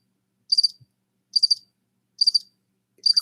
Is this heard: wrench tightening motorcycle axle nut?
no